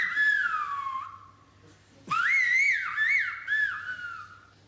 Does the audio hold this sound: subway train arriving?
no